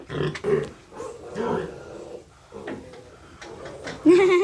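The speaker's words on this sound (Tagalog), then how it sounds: "Nagpapapit ang baboy na yan." A pig grunts and snuffles close by in a provincial yard, the rough low grunts broken up with bursts of talk and ending in a louder squeal-like call.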